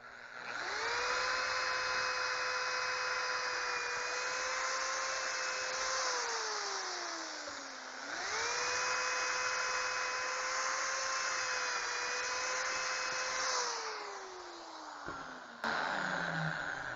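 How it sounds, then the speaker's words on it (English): A power drill with a pocket-hole jig bit whines loudly at a steady pitch, then winds down; a second long run follows and spins down again, with a brief knock near the end. "Take your special drill bit, which comes with it,"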